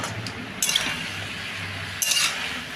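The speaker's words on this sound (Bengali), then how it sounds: "হলুদ দিয়ে দিয়েছি, একটু নাড়াচাড়া করি।" A metal spoon stirs turmeric into spinach in a pan, giving two bright clinks against the pan about a second and a half apart over a quiet background.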